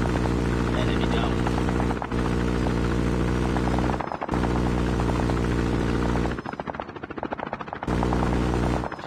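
Chopper gunner helicopter in Call of Duty Mobile, a loud, dense rotor drone under game voice callouts, broken by brief dropouts and a stretch of rapid gunfire pulses near the end.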